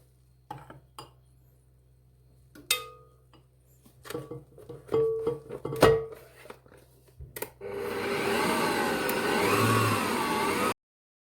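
An electric hand mixer whirs steadily through waffle batter as flour is slowly added, starting after several clinks and knocks of utensils and bowls, loud and close with no talking.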